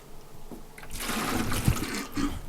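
Water trickling and splashing out of a car trunk in a garage. It starts faint, then swells into a steady pour for about a second and a half before easing.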